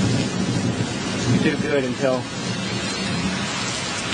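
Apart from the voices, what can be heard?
thunderstorm with thunder and heavy rain in Meridian, Mississippi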